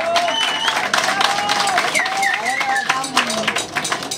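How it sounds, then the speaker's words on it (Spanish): Crowd applause for a contest couple at a festive gathering, dense clapping and cheering from a nearby audience, with voices and a whistle-like tone rising over the noise. "¡Aplausos para don Roque!"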